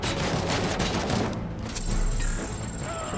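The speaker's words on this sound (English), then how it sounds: "I'm gonna shoot everybody at the leg, dude." Gunfire in RoboCop: Rogue City, a dense, continuous burst of shots from a game battle, loud and close with heavy low rumble throughout.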